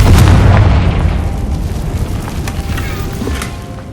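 A Confringo spell blast in Hogwarts Legacy lands with a loud, deep boom at the start, then a rumbling, crackling tail slowly fades over a few seconds.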